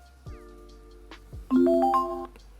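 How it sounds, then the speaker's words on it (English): A Blitz-Wolf Bluetooth speaker powering on plays an electronic notification chime, a short series of clear rising tones and a brief melodic flourish, close and fairly loud with no talking. "you will get that sort of notification sound"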